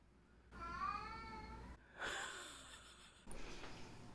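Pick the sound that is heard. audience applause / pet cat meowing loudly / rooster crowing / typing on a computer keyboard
pet cat meowing loudly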